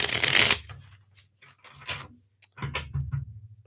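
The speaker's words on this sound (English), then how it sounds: "I'm just going to shuffle these up here." Tarot cards being shuffled up close: a sharp riffle burst, then softer shuffling and tapping, with no voices.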